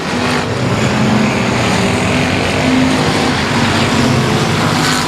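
Hobby Stock race cars roar around the Cotton Bowl Speedway oval in a feature event, a loud continuous engine drone with overlapping cars throughout.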